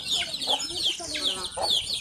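Native country chickens clucking in a backyard poultry setting, several overlapping close clucks and short calls in an irregular rhythm.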